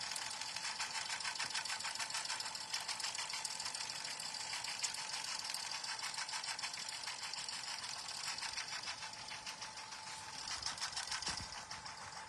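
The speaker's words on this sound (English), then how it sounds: "We all have better things to do than to watch the machine stitch for an hour." An embroidery machine stitching the background fill of a patch design, a fast, even mechanical chatter running continuously at steady volume, close and unbroken with no voices.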